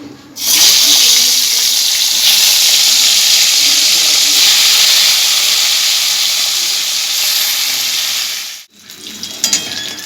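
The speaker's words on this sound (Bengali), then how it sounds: "এরপর এই তেলে আমি মাছের মাথাটা ভেজে নিচ্ছি" A fish head frying in hot oil gives a loud, steady, close sizzle that runs unbroken for about eight seconds, drops out suddenly, then returns more faintly with a few clicks.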